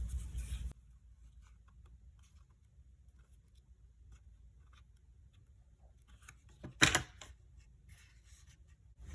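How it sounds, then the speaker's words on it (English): Glue is scraped along a paper card base in one short, close, dry scratch after a long near-silent stretch. "my glue is facing down at this point, and I'm just going to scrape some along the card base"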